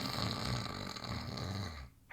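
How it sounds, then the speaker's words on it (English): An obnoxious drunken snore rumbles loud and close in one long, ragged inhalation, then cuts off abruptly near the end. "Kind of like an obnoxious drunken snore"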